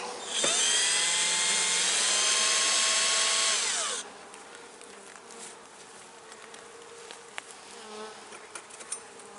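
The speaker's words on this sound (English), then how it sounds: "this should get these bees using that bottom entrance now" A loud, dense buzz of many honeybees at a hive swells for a few seconds, then drops to a quieter hum with scattered close buzzing.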